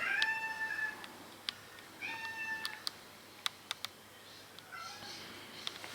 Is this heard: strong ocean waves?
no